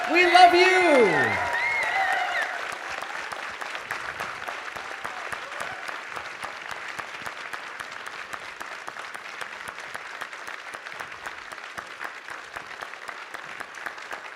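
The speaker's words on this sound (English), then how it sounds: "Let's give them a massive round of applause" Sustained applause fills a conference hall at a First Nations community wellness gathering, where the crowd honours a lived-experience medicine panel. It starts right after a brief shout and holds steady, dense and even, to the end with no talk over it.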